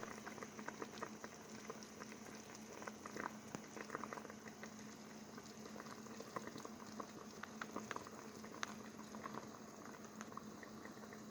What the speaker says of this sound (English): The recipe calls for a hard boil over a medium-high heat in order to cook